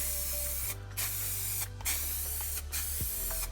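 Three short hissing bursts of a spray paint can painting motorcycle plastics, close and loud, separated by brief pauses, with a low steady hum underneath.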